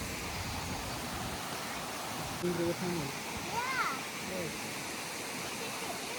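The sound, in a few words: flowing water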